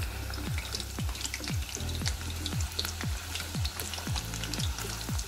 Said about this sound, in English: I put my temperature, I mean my fire higher a little bit. So the purpose is to make it crispy.